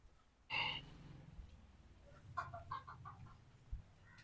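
Chickens clucking and squawking nearby, a sharp burst at first followed by scattered clucks over low background rustle.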